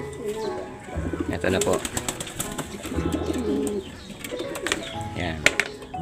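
Racing pigeons about two months old coo at a loft before release, soft repeated coos close by, with a person speaking briefly over them.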